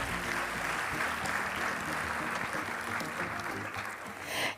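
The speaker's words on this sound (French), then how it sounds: "merci de les applaudir" Audience applause at a national girls' education day ceremony, a dense, steady wash of clapping that fills the hall for several seconds, with a brief swell near the end.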